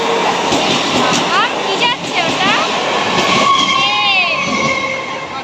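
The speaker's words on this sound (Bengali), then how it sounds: "আর এখানে দেখতে পাচ্ছ পাশ দিয়ে ট্রেন যাচ্ছে।" A train rolls past close by a roadside eatery, its loud rumbling rush running throughout, with people talking and calling out over it.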